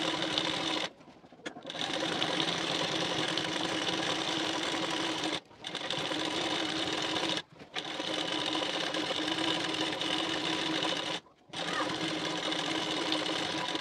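A sewing machine runs steadily, stitching a strip along the neck edge of a blouse in a long close-up drone broken by a few brief stops.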